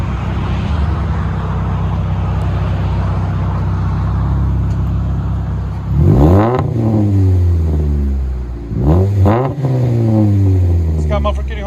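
A 2007 Pontiac G5 with a 2.2L four-cylinder and a Vibrant bottle resonator exhaust idles with a steady drone, then revs sharply twice, rising and falling, loud and close.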